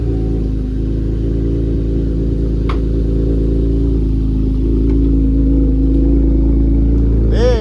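Chevrolet Camaro engine running after catalytic converter welding, a steady, loud low rumble close by that builds slightly as it revs, continuous throughout.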